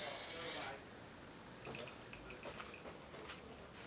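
Clear coat hissing from an aerosol spray can onto a car part, a close bright spray burst at the start followed by quieter intermittent short hisses as the can keeps moving.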